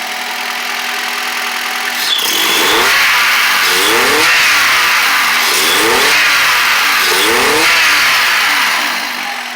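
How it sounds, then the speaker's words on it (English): A Honda Accord's freshly installed F20B engine with a stainless steel exhaust idles steadily and revs up several times in repeated surges, loud and close. "There's the engine all installed and running."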